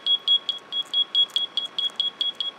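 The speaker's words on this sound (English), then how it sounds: "as you can hear, that's what happens. It kind of goes beep" A steady series of short, high electronic beeps from a Minecraft furniture mod item repeats at a quick, even rhythm, clear and close with nothing else around them.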